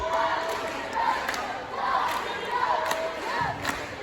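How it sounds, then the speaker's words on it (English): A crowd at a tied high-school basketball game, Webber Trojans against Hamilton Co Foxes, roars and cheers from both sides in the closing seconds, a sustained swelling noise with shouts rising through it. "Both sides up cheering for this one."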